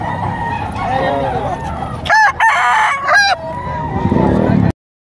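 A bull stag gamecock for sale at a market in Padre Garcia, Batangas crows loudly nearby, two long ringing calls in the middle over a busy murmur of crowd and livestock noise.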